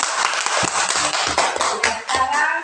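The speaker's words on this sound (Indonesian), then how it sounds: "Ya, tepuk tangan." An audience claps hands during a Bible lesson, a dense patter of claps lasting a few seconds, with a few sharper, heavier slaps standing out.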